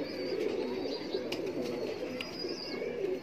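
A golden teddy pigeon coos nearby in soft, repeated throaty calls, with faint chirps over a constant low background hum.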